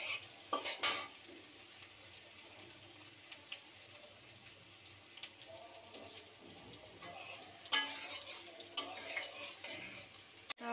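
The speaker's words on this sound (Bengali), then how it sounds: "আলুটা ভাজা হয়ে একটু ভেজে নিতে হবে আলুটা।" Potatoes fry in a pan of oil with bay leaf and nigella seeds: a faint, steady sizzle with a few sharper scrapes and clinks of a spoon stirring against the pan.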